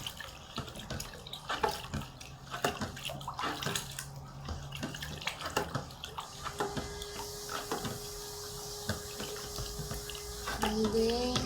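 Homemade fabric conditioner mixture is stirred in a container, a continuous watery sloshing and swirling close by, with a faint steady hum entering partway through.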